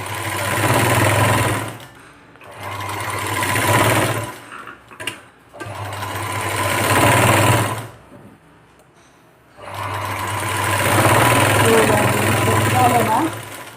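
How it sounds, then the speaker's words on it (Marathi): A sewing machine stitches along the edge of a boat-neck blouse, running in steady, loud mechanical bursts of several seconds each. Short pauses and a small clunk fall between the runs. "आपण हे कडेने शिवून घेऊ चौबाजीने"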